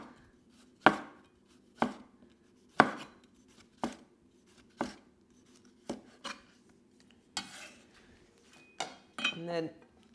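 A knife slices cucumber into thin ribbon-like pieces on a cutting board, giving about ten distinct sharp chops spaced roughly a second apart, close and clear, ending in a faster scraping flurry.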